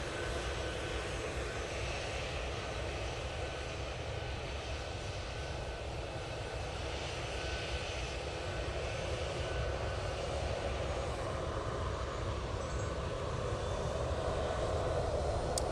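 A Ryanair jet airliner on its takeoff roll at Manchester Airport, a dense, steady engine roar that stays loud and even throughout, heard from a moderate distance with no voices.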